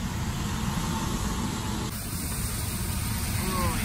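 Broadband roar of road traffic outside a parked station wagon, a steady hiss-like wash of passing vehicles heard from inside with open windows, continuous and moderately loud.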